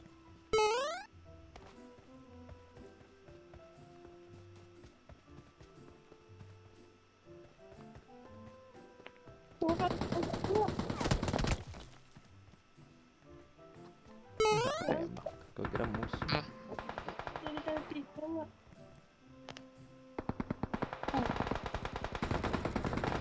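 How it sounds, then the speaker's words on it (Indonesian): Gunfire in the battle royale video game PUBG, with several bursts of rapid automatic fire and scattered single shots over game background sounds, loud and close. "Headshot sekali. Musuh di depan."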